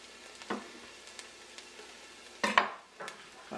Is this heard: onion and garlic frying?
yes